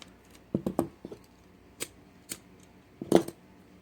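Scissors snip through the cord of a bead kandi bracelet, making a few quick, close, crisp clicks near the start and a sharper cluster of cuts toward the end, with quiet pauses between.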